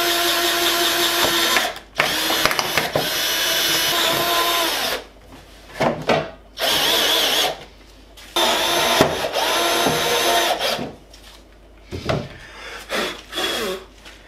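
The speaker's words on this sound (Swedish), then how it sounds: "Nu är vi på gång, jag ska sätta en skruv." A power drill drives a screw into a fender flare on a Jeep, loud whirring bursts of several seconds each, stopping and restarting with short pauses in between, close up and without talk.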